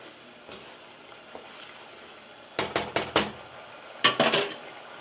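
A spoon scrapes and clanks against a pot of Spanish rice in quick bursts, a couple of clusters of stirring strokes after a quiet pause, close and fairly loud.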